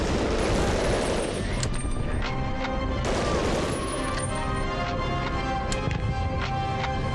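Explosions and crashing blasts from the war game Medal of Honor Underground fill the clip, with loud rumbling booms, scattered sharp impacts and continuous battle noise throughout.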